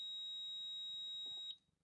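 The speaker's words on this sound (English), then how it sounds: "And you should be able to hear also the alarm horn." Audible alarm horn of a USM36 ultrasonic flaw detector, a steady high-pitched continuous beep tone sounding loud and close, then cutting off abruptly near the end.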